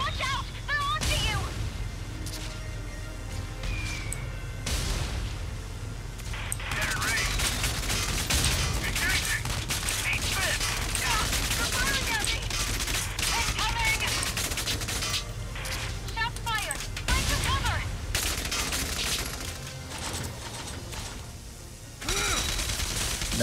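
Battle sounds from the video game Valkyria Chronicles 4, with an anti-tank cannon and small-arms fire: dense, continuous bursts of gunfire and blasts, loud and busy throughout, with game voices talking over the combat.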